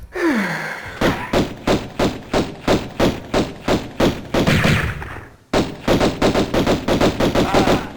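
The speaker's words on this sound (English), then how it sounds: "Rudely, he was using our magnums against us" Magnum pistol fire from the cowboy enemy in Tomb Raider Remastered's Natla's Mines comes as loud, evenly spaced shots in rapid bursts, one short pause breaking the string, with a brief grunt at the start.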